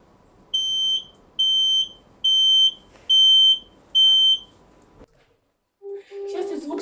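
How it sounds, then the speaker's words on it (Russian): Low-depth warning alarm from the echo sounder aboard the icebreaker Krasin: five evenly spaced, shrill electronic beeps in a row, followed by a pause and a faint shift in the background. "эхолот нас предупреждает об опасности, о недостатке глубины"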